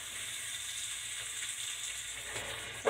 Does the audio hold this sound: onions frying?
yes